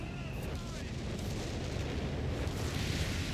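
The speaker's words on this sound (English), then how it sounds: "Well, we definitely have artillery coming on in." Artillery shells exploding in the Company of Heroes 3 video game during a 4v4 match on the Oasis Depot map, a dense, continuous low rumble of overlapping blasts and booms that stays loud throughout.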